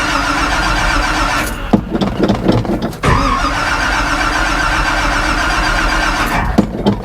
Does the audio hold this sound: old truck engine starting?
yes